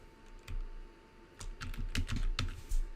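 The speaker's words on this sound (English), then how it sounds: "Press the Enter key on your keyboard." Typing on a computer keyboard while naming and saving a document in Word Online, a few quiet scattered keystrokes followed by a quicker run of clacking key presses, close and alone.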